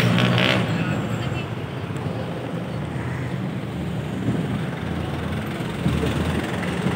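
Outdoor street traffic near a shopping mall, with a continuous wash of car engines and tyre noise as vehicles pass close by during a road crossing, someone talking over it.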